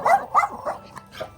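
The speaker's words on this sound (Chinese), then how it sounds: "这狗太吓人了，见咬人。" Aggressive dogs on a mountain path bark in a quick series of about four or five sharp yaps, near and fairly loud, each shorter and fainter than the one before.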